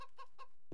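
Chickens clucking in the video game House Flipper, a few short, clear clucks in quick succession, close and alone.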